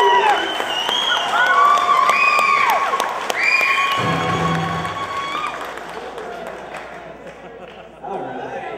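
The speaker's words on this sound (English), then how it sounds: "applause for my sisters" An audience at a dance performance claps loudly, mixed with cheering, whistles and shouts. The clapping eases off toward the end, and a brief burst of crowd noise returns near the close.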